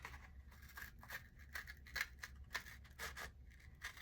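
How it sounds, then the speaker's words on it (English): Scissors snip repeatedly through a cardboard crayon box in quick, crisp cuts, close and clear, with a papery scratch between strokes and no voices. "I'm using my scissors to cut right here on the front."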